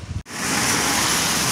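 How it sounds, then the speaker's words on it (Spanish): Heavy rain mixed with hail pours down in Tijuana as a dense, steady roar after a brief gap, loud and continuous with no voices. "Está lloviendo aquí en Tijuana con granizo"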